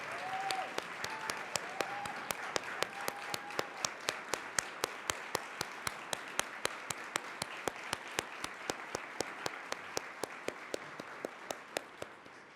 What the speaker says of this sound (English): I want every nonprofit staffer and leader to stand up and accept the applause of this room.